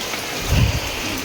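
Light drizzling rain in a village, a steady soft patter with a brief low rumble swelling midway, fairly close and without voices.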